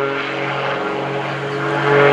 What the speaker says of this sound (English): 350 horsepower in this airplane, taking him up skyward